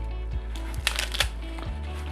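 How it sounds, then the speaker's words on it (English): Romaine lettuce being torn into large chunks by hand, with several crisp, crinkly rips at irregular intervals, close up and fairly clear, with no talking. "I usually rip into large chunks"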